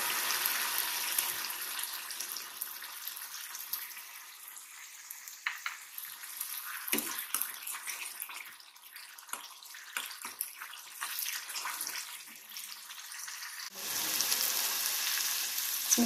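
Garlic ginger paste sizzling and frying in a hot pan while cooking masala soya chaap, a steady close hiss with scattered crackles and stirring clatter, no one talking.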